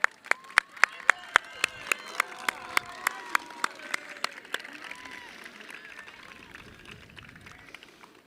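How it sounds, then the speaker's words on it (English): At a Nantucket High School graduation, applause for teachers starts as a series of sharp, evenly spaced claps that ring out clearly. Cheering voices rise over them and then blend into a softer, continuous clapping from the crowd. "You guys should be applauding for your teachers."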